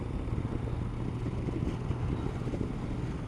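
A Yamaha MT-09 Tracer motorcycle runs at low revs around town with a steady low engine rumble. It sounds close and moderately quiet, with some wind buffeting and no speech.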